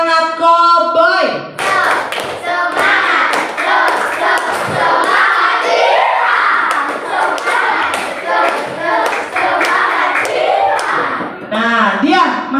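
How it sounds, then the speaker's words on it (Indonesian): A school class performs a rhythmic clapping chant, the energetic "cowboy" version, with loud close claps and thumps in set patterns mixed with many children's voices chanting and shouting together. "Ibu minta tepuk semangat dulu. Tepuk semangat cowboy."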